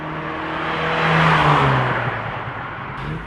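An Alfa Romeo Alfetta's twin-cam engine revs up and settles back, a steady near engine note swelling briefly in the middle with no talk over it.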